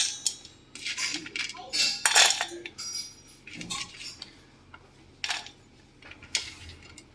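Dry fruits, including cashews, raisins and tutti frutti, are tipped into a vessel, making scattered clinks, rattles and short clattering bursts with quiet pauses between them.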